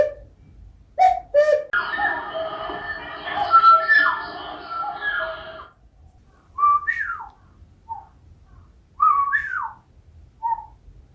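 An ocarina imitates a cuckoo's call, playing a few clear, close two-note phrases. A burst of rushing noise sits between the first notes and the later repeated pairs.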